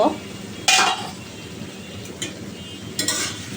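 Vegetable fry being stirred in a pan, with a few distinct metallic scrapes and clanks of a spatula over a faint sizzle, the first loudest and two lighter ones following.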